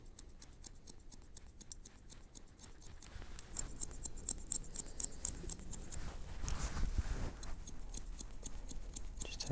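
Scissors snip repeatedly as their points cut into the ends of long hair in a barber shop, producing quiet, close, crisp rhythmic clicks that grow slightly denser and louder midway.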